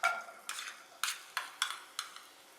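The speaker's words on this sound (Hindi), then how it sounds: "अब पैन में 2 से 3 टेबल स्पून ऑयल डालेंगे और एक मीडियम चॉप प्याज।" A medium chopped onion in two to three tablespoons of hot oil sizzles softly in a pan, broken by about six sharp, evenly spaced stirring scrapes close by.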